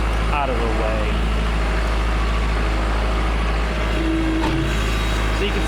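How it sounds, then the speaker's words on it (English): A Kubota L4701 tractor, fitted with a front bucket and a rear box blade, runs steadily with a loud, constant low diesel drone and some mechanical clatter, while brief tonal squeaks and whines rise above it. "So you can see I got my Kubota L4701 out."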